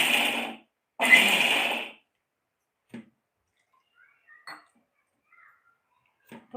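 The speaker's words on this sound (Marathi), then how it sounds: "हे बघा इथे आपण मिक्सरला हळद टाकली." Kitchen mixer grinder running with turmeric added for Malvani masala: two short, loud whirring bursts close by, followed by near silence broken only by a few faint clicks and taps.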